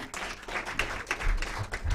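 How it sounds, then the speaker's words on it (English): An audience at an awards event applauds the judges in a brief burst of scattered hand claps with uneven rhythm, moderately loud. "A round of applause to the judges."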